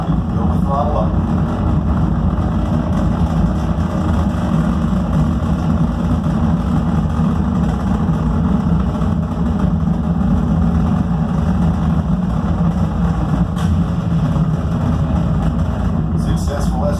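A simulated space shuttle launch rumbles at throttle-up inside a space science center's Odyssey shuttle simulator: a dense, steady, loud low roar that stays continuous with no break for the whole stretch.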